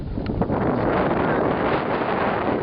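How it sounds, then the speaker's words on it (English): Strong, steady wind roars across a desolate, exposed mountain trail, buffeting the microphone in a loud, continuous rush with slight gusting swells and no pauses. "It is so windy."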